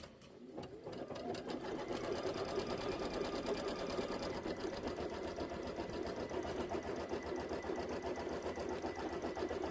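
An embroidery machine stitches the placement line for background fabric on a quilt border block, a steady, fast, even mechanical whir with rapid needle rhythm running continuously and fairly close.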